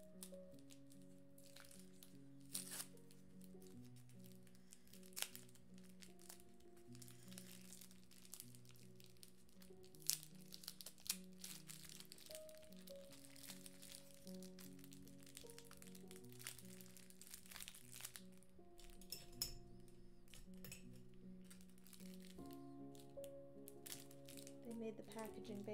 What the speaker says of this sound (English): They made the packaging Bailey proof